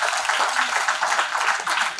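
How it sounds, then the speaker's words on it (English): Audience at a design debate event giving the panelists a round of applause: steady, continuous clapping from many hands, moderately distant, with no break. "Can we have a big round of applause for our panelists?"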